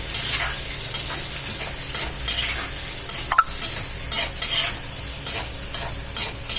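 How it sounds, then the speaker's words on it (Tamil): Four onions sizzle and fry in a pan while being stirred, a steady crackling hiss with repeated scraping strokes throughout, close and alone. "இதை நல்லா வதக்கி கொஞ்சம் இதுவாகிட்டு கொஞ்சம் ஃப்ரை ஆகட்டும்."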